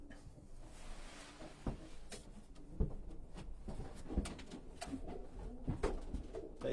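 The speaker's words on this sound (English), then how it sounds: "they're very calm, placid pigeons" Racing pigeons coo softly and repeatedly in a loft, with low throaty calls overlapping against light shuffling and background clatter.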